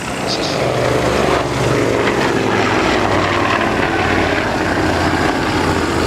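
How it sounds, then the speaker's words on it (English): A twin-engined Avro Anson with Armstrong Siddeley Cheetah radial engines runs loud and steady at a flying festival, a continuous close propeller drone with no breaks. "the Avro Anson starting life."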